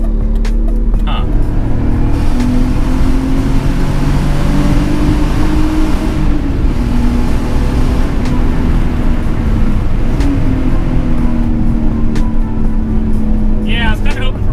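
A BMW E46 fitted with a K&N intake free revs, its engine droning loud and close with rising and falling pitch as the throttle is blipped, steady and continuous throughout.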